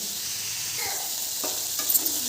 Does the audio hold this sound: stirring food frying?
yes